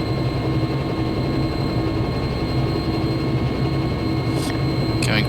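A Robinson R66 turbine helicopter idles nearby, giving a steady, loud, even roar with a constant high whine running through it and no speech.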